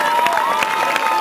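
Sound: crowd applauding and cheering at a salsa show

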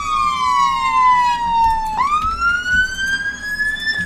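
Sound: ambulance sirens in the video game Emergency 4

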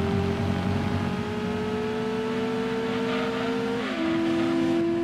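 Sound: rotary engine race car in Gran Turismo 2 video game

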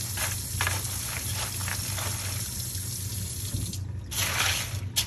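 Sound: water poured into container

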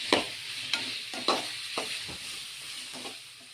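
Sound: onions with rock salt sautéing in a pan

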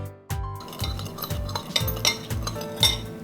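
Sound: stirring fish sauce and sugar marinade

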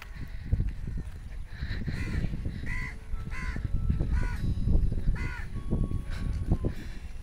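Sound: crows cawing on a college campus

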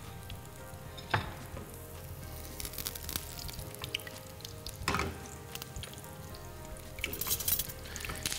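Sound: banana slices in batter frying in a pan

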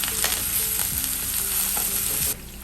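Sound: onion, green chilies and ginger garlic paste sautéing in a pan

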